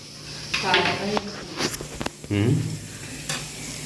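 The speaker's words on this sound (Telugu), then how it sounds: "కాకరకాయ వేయించుతున్నారా" Bitter gourd frying in a pan sizzles steadily in the background, with a few clinks of a utensil, while people talk loudly over it in intermittent bursts.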